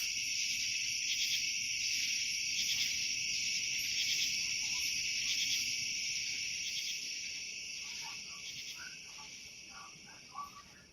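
Steady, bright insect drone like cicadas or bees runs throughout as part of a music backing track, with faint chirping calls joining near the end, no speech.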